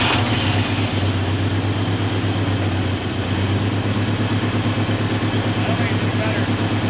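Ford Ranger engine running just after an injector repair, a steady, loud low rumble with even harmonics that holds at a constant idle for the full stretch.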